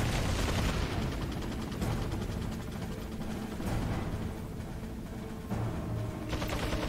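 Rapid, sustained gunfire in Resident Evil 4, dense bursts of shots running continuously at steady loudness, with no talking over it.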